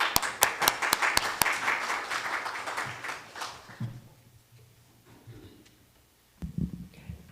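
A church congregation at a Sunday gathering applauds the morning's musician, with sharp, distinct claps that thin out and fade over about four seconds, followed by near quiet and a faint voice.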